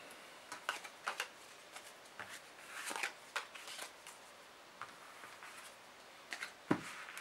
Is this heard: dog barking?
no